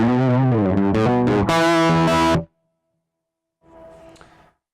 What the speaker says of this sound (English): if I switch the cab simulation off, this is what the preamp would normally sound like DI to the computer